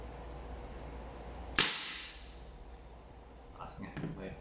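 Single loud shot from a Redmantoys BCM MCMR MK2 airsoft gas blowback gun, a sharp close crack with a quick hissing decay, followed by faint voices and handling noise.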